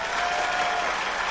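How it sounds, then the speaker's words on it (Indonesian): Applause from a stand-up comedy audience, a dense steady wash of many hands clapping at an even level throughout the short burst. "Nah, tepuk tangannya mana?"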